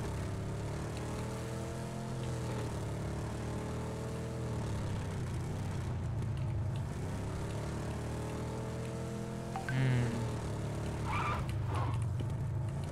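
A car driven in the mobile battle-royale game PUBG Mobile hums with a low, steady engine drone that rises and falls in pitch as it accelerates, with brief skidding or impact noises near the end.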